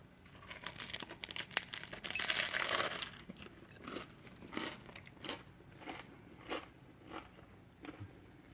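Bites into a bacon, egg and cheese English muffin sandwich, a crisp crunch followed by soft rhythmic chewing, close and quiet, repeating in even pulses.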